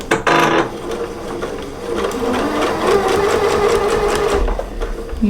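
A sewing machine pieces quilt fish block fabric at a slightly shortened stitch length and quarter-inch seam, running loud and close with a continuous rapid mechanical chatter throughout and a brief clunk near the end.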